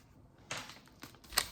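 A soft plastic fishing lure's bulbous head is snipped off in a few small, quiet clicks and snaps close by, with near-silence in between.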